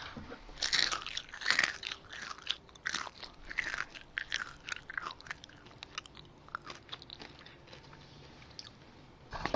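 Crunchy biting and chewing of food right at the microphone in an ASMR setting, with repeated loud, close crunches and wet chewing in an irregular rhythm throughout.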